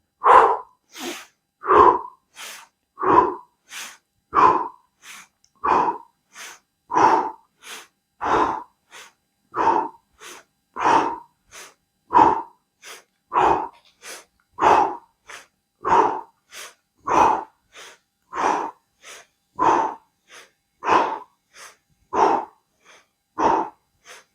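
Deep, rhythmic breathing exercise led by an instructor: about two dozen forceful, evenly spaced breaths, close and loud, with brief silent gaps between them and no talking.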